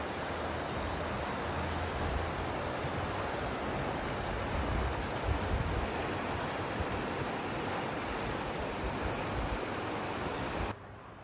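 Steady, dense rushing of a Himalayan river flows continuously without pause, loud and close, fading abruptly at the very end.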